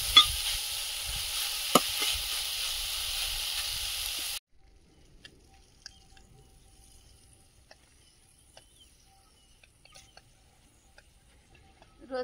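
Thankuni leaf and mati pora greens frying and being stirred, a steady sizzle with a couple of spatula knocks, cutting off abruptly into near silence with only faint scattered clicks.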